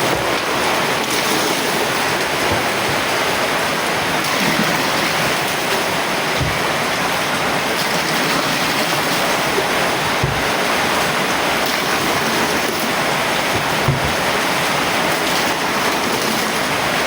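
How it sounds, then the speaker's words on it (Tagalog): A powerful waterfall roars continuously, a dense, steady wash of rushing water with no pauses, loud and close. "Waterfall!"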